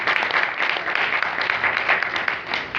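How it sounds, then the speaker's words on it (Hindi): A church congregation applauds loudly for Jesus during a Hindi-language sermon, steady dense clapping that fills the space without letting up for a few seconds. "यीशु के लिए जोरदार तालियां।"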